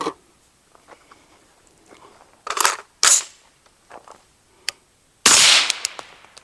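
Suppressed 5.56 rifle shots through a Tisha 718 suppressor on gas setting 4, heard as several sharp, loud cracks spaced apart with quieter handling clicks between them and no talking.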